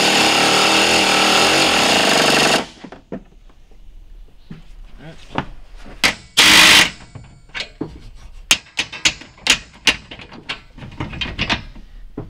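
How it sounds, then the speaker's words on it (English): Pneumatic air impact wrench on a socket while building a Ford Interceptor SUV patrol vehicle: a loud sustained rattling burst at the start, then scattered metallic clanks and knocks of tools and parts, with one more short loud burst midway. "You gonna use your air gun?"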